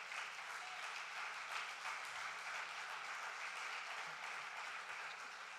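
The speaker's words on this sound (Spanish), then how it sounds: "Dele palmas al Señor" A church congregation claps for the Lord, a dense, steady wash of applause sustained throughout at moderate distance.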